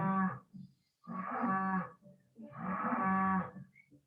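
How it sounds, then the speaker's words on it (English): Dairy cows mooing nearby, three long, loud, drawn-out moos with short pauses between them, no talking. "Taking in the sounds of the cows ready to be milked in the background."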